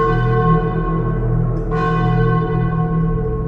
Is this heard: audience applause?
no